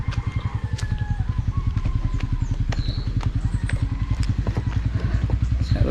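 A motorcycle rides along near Indahag, Cagayan de Oro City, with a close, rapid, evenly pulsing engine thrum that runs steadily throughout, with faint wind and road noise on top.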